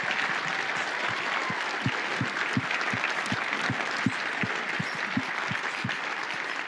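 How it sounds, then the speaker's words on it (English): A conference hall crowd at closing ceremonies applauds the staff, dense steady clapping with a few louder individual claps standing out throughout. "just give a general applause for the staff"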